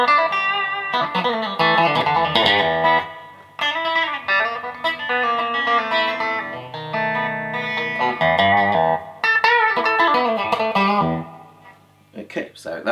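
A custom Strat-style electric guitar plays through a small single-ended valve amp with spring reverb, giving clear melodic phrases and chords with ringing sustain and brief pauses between them.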